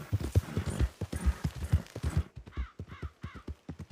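Shire horse hooves clip-clopping in a steady, close rhythm, with scattered crow caws rising over the last part.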